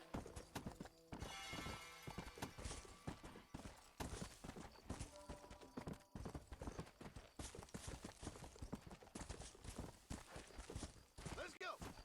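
Horse hooves clip-clop steadily at close range in Red Dead Redemption, with game music and a talking voice layered over the footfalls throughout.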